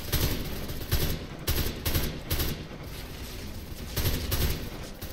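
Bursts of automatic gunfire in the first-person shooter Deadfall Adventures come in quick, repeated volleys with short gaps between them. The shots are loud and close, and no voices are heard.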